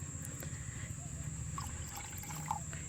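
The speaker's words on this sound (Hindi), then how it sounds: "तो मैं इसी में थोड़ा पानी डाल के," Water is poured into homemade compost from kitchen waste, a soft continuous trickle with light splashes under a steady background hum, no talking during the pour.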